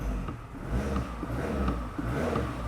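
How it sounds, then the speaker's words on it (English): Toyota RAV4 engine revved while parked with a battery light on and heavy steering, a loud low rumble that swells and dips but never climbs properly, with no voices. "I'm gonna rev up the engine."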